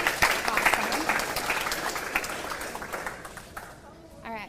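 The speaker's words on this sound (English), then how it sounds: "Can I get another round of applause for Ward's breakfast?" Audience applause at a 4-H fashion revue, a dense patter of clapping that gradually thins and fades over several seconds, with a voice speaking near the end.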